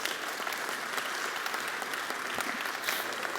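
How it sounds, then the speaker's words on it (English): An audience at the Asia Pacific real estate development excellence awards presentation applauds the jury members, a steady, dense round of clapping sustained at an even level throughout. "join me quickly in a round of applause to thank the jury members for their service"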